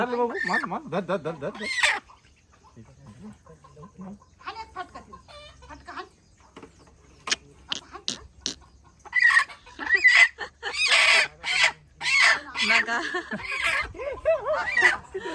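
Several chickens cluck and squawk close by in bursts, busier toward the end, with a voice speaking briefly at the start.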